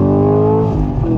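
A Camaro LT1 engine with a Tremec 6-speed manual and auto rev matching revs loudly and close, a rich steady roar that shifts pitch slightly as it settles, with no voices.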